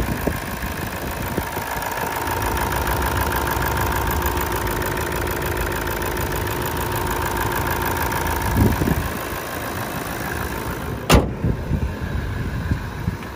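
A 2016 Toyota Land Cruiser VX 200 series engine idles steadily and quietly at close range with an even hum, and a brief sharp click cuts in near the end.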